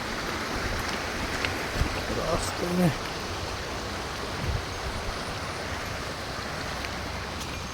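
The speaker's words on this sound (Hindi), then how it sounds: "यहाँ पे बह रहा है एक झरना" Steady rushing wash of a waterfall flowing beside a trail, constant broadband water noise close by, with someone speaking briefly over it.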